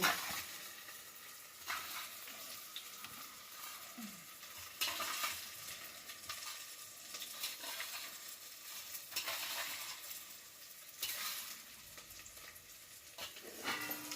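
Onion, green chili and curry leaves roast in a pan for poha, with repeated stirring scrapes over a soft frying sizzle. Bursts of louder scraping recur every few seconds.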